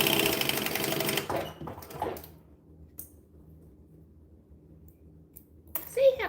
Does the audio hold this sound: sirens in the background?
no